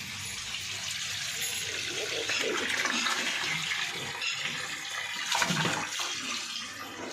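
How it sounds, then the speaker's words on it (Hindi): Steady rushing of tap water filling a container, continuous throughout with a brief louder gush near the end. "नल आ गया है तो मैं पानी भर लेती हूँ"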